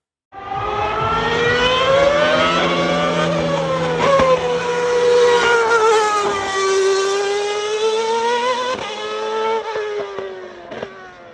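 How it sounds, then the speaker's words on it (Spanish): Sebastian Vettel's V8 Formula One car at the Nürburgring screams past, a loud high-pitched engine note sweeping up and down through several sharp gear changes, continuous and alone for about eleven seconds. "la verdad que es impresionante ese sonido de los V8"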